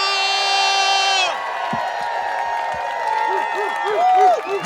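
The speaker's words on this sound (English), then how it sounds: "let me hear you give a loud round of applause for our next United States Senator, Debbie Mucarsel Powell!" A crowd at a political rally for a Senate candidate cheers and whoops after a loud voice stretches out a long call, with shouts and applause building toward the end.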